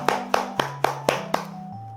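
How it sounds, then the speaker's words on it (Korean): Handclapping at the close of a church online Bible-study session: about six evenly spaced, crisp claps in a steady rhythm over a soft sustained tone, with no talking. "수고하신 모든 분들께 박수하도록 하겠습니다."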